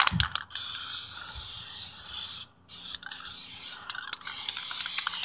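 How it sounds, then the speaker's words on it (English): Caliper cleaner sprayed from an aerosol can onto a brake rotor during a rear disc brake conversion on a 2003-2005 J-Body car, close, loud hissing bursts broken by several short pauses and quick restarts. "So I'm just going to use some caliper cleaner to clean this up."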